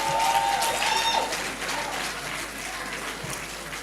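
Steady applause from an audience, a broad wash of clapping that holds for several seconds and slowly tapers slightly.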